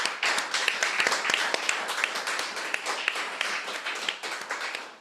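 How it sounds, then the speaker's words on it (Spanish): Applause from a church congregation honoring Christ during a bilingual sermon, a dense, steady patter of many hands clapping close by for the whole stretch. "Un fuerte aplauso a Cristo."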